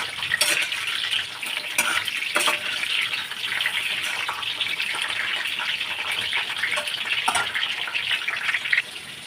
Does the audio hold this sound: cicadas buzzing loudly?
no